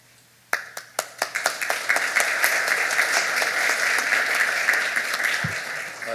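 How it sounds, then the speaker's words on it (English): Audience applause at a Seattle University event, beginning with a few sharp isolated claps that quickly swell into a full, steady ovation from a large crowd, close and loud. "Joe starts the applause"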